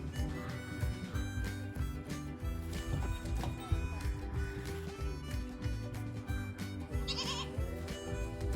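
Goats and a single sheep bleat in a pen behind a woven wire fence on a farm, their cries repeating over steady low machine-like droning throughout.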